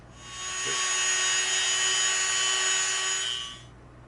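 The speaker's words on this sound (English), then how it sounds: "we're gonna lightly hit the outer edge of this with our Dremel" A Dremel rotary tool sands the edge of EVA foam for a prop build, a steady high-pitched whine that spins up, holds evenly for about three seconds and then winds down, close and alone.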